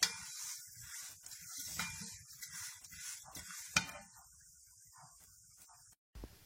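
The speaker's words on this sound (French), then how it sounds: "nous allons donc mélanger jusqu'à ce que les vermicelles soient bien dorées" Vermicelli with cinnamon and cardamom is stirred in a pan until golden. Quiet, irregular scraping strokes sit over a soft sizzle, with one sharp utensil clink midway and near-silence toward the end.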